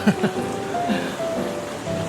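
Rain falls steadily as a soft, continuous hiss during a city walk in Bratislava, Slovakia, close to the mic with faint bumps and brief voices mixed in.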